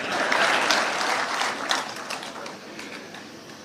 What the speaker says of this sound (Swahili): Makofi kwangu basi.